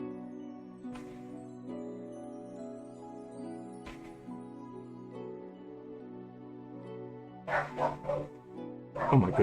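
A dog barks and whines indoors near a 3D printer, short yips at intervals, loudest and most agitated near the end of the stretch, over a steady tonal hum with little talk.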